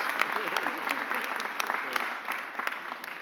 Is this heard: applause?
yes